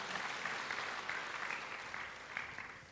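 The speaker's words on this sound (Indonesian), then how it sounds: "Mau tepuk tangan lebih meriah buat Tuhan?" A church congregation applauds during a healing service, a steady wash of many hands clapping together for about three seconds, heard from a distance and fairly faint.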